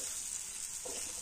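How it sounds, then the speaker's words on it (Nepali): Mashed boiled potatoes fry with spices in a pan, making a faint, continuous sizzle with a soft stirring scrape near the end and no voices. "मजाले एकछिन एकछिन चाहिँ भुट्नुपर्छ मसलाहरू सबैतिर लागोस् भनेर"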